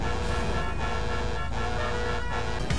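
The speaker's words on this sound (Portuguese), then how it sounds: "Olha a buzina. Olha a minha." A car horn honks in GTA V Online amid a dense, loud din of engine and game noise, several brief toots standing out over the steady roar.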